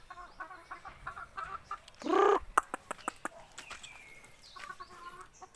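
Mother hens let out of their pen cluck in scattered short calls, one louder drawn-out cackle standing out, against a quiet outdoor backyard background.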